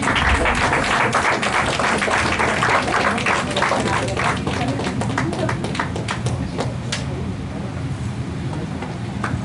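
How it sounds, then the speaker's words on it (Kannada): Audience applause at the grand opening ceremony of a Raaga Anuraaga karaoke singing event. Dense, continuous clapping from a crowd fills the whole stretch and eases slightly toward the end. "ಜೋರಾದ ಚಪ್ಪಾಳೆ ತಂದಿದೆ"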